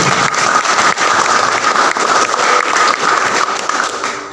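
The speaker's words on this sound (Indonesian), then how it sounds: "beri aplaus buat ini" Sustained applause from a congregation at a Christmas worship celebration in a boys' dormitory, a dense steady wash of clapping lasting the whole stretch and fading slightly at the end.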